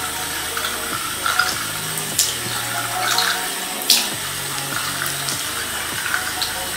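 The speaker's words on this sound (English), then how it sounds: "Don't keep your water running." Water runs from a bathroom sink faucet during a morning face-washing routine, a steady close hiss with small clinks and splashes on top, and no talking.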